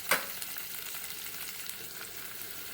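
Garlic and ginger fry in a pan after onions, with a soft, continuous sizzle and a brief clatter of stirring at the start.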